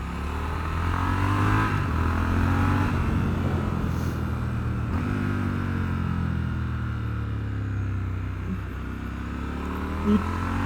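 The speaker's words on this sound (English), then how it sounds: "Yeah, there's that slipper clutch again." Triumph Scrambler 1200 XE motorcycle engine with a slipper clutch, a steady droning twin revving and shifting pitch while riding, with wind rush throughout and a brief blip near the end.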